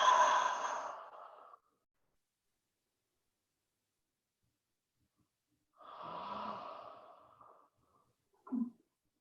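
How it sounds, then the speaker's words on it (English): Deep, slow breathing during a yoga flow: a long audible exhale, then after a quiet pause another full breath ending in a short, sharp sniff, close and otherwise silent. "Big breath in, big breath out."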